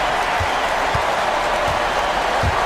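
A crowd in an e-basketball video game gives a steady, dense roar of cheering and applause, constant and loud throughout with faint low thumps underneath.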